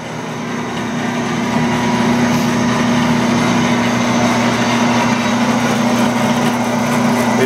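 A Lockformer 24-S bandsaw with a 24-inch throat and three speeds, running freely: a steady, loud mechanical hum and whine that holds unchanged throughout, nearby, with no voices.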